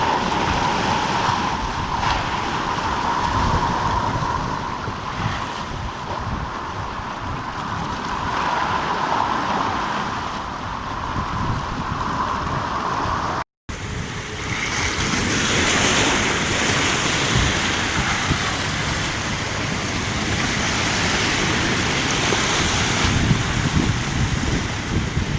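Powerful Black Sea waves break and surge onto the beach at Tuapse in summer, a loud, continuous roar of surf mixed with wind buffeting the microphone.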